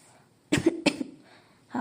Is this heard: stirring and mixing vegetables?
no